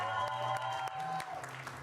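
Scattered hand clapping from an audience, fairly soft, with a steady hum and some background murmur underneath.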